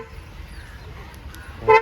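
A Kia car chirps its horn in response to the remote key, one short, loud toot near the end after a stretch of quiet background hum.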